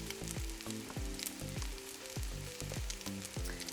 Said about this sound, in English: you will need to fry it a couple of minutes on each side, allowing the browning of the meat